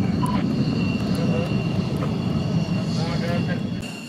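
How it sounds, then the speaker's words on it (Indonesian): Military training airplanes taking off one after another at a flight training squadron base in Yogyakarta, heard as a loud, steady engine roar that fills the whole stretch, with no talking. "satu persatu pesawat tinggal landas untuk memulai latihan"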